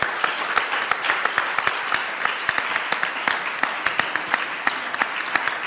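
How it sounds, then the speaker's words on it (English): A conference audience gives warm, sustained applause. Many hands clap in a dense, steady patter, with sharp individual claps standing out close by, for several seconds and with no talk over it. "So please join me with a warm applause."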